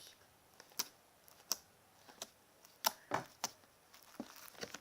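Slime gives a series of sharp, quiet clicks and pops at irregular intervals, close up, with soft squishing between them and no talking.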